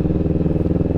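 A Kawasaki Ninja 400 motorcycle revs steadily as it rides onto an expressway, its engine throbbing with a close, loud, rhythmic pulse throughout the short burst.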